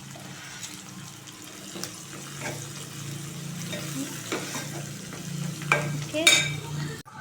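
Onions fry in a pan as they are stirred, a close sizzle with scraping and clattering utensil knocks that build louder toward the end; a voice speaks briefly.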